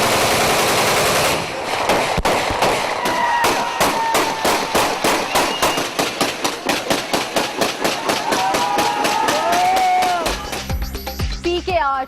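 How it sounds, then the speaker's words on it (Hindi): Celebratory aerial gunfire in Peshawar after an election: a long, rapid string of loud gunshots in steady bursts, with a few scattered shots and crowd noise toward the end. "पिशावर में जिमनी इलेक्शन का नतीजा आने से पहले ही खुशी में हवाई फायरिंग।"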